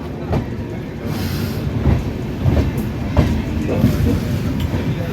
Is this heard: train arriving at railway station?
yes